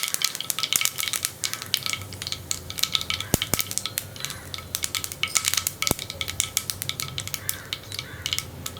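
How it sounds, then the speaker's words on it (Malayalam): Mustard seeds popping and spluttering in hot coconut oil in a pan, a dense run of sharp crackles with scattered metallic clinks of utensils, close and fairly loud, with no talking. "ഇപ്പോൾ നമ്മുടെ കടുക് പൊട്ടിക്കൊണ്ടിരിക്കുന്നുണ്ട്"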